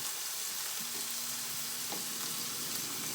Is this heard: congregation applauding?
no